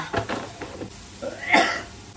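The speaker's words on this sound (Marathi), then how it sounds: "मला खोकला की शिंका काहीतरी कन्फ्युज झालो, मग मी खोकून टाकलं" A person coughing in a home kitchen, a couple of short rough bursts followed by a louder, sharper cough, close and alone without talk.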